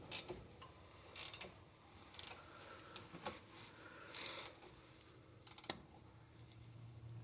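A ratchet wrench tightens brake caliper bolts on a 2015 Hyundai Elantra during a brake pad and rotor job, giving close, intermittent bursts of quick clicking separated by short pauses.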